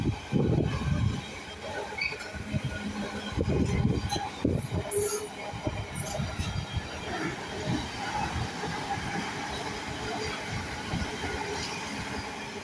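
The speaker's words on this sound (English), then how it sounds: "There'll be a Western Railway 730 passing behind it as well." A South Western Railway class 730 train passes close by with a heavy rumble, wheel clatter and bright squealing, loudest early on before settling into a steadier rolling drone.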